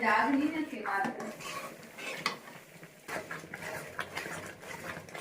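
A spoon or spatula scrapes and clanks steadily against a pan while sticky gond pak, a winter sweet, is stirred slowly over low heat. The sound is close and continuous with a busy background.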